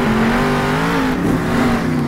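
A monster truck engine in the video game Monster Jam Steel Titans revs steadily during a freestyle run, with a sustained droning growl that holds a fairly even pitch and loudness throughout.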